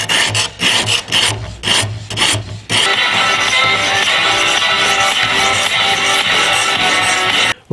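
A kitchen knife is rubbed against a 400 grit diamond sharpening stone, first in quick separate rasping strokes, then in one long continuous grinding scrape, loud and close.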